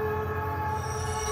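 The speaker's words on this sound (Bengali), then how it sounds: "স্টেশনে পৌঁছে দেখলাম ট্রেন ঢুকে গেছে।" A cartoon train pulls into a station with a steady sustained metallic squeal and rumble of wheels on rails, loud and continuous throughout the short moment, with no talking.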